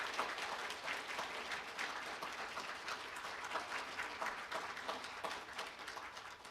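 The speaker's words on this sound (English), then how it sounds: "Students, will you let these individuals know how much you appreciate them with a round of applause?" Graduating nursing students applaud their faculty at a hooding and pinning ceremony, a long, steady round of many hands clapping at a fairly soft, distant level.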